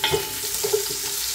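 Onions dropped into a frying pan of garlic that has turned golden brown, giving a steady close sizzle with light stirring scrapes over a little more than a second, and no voices.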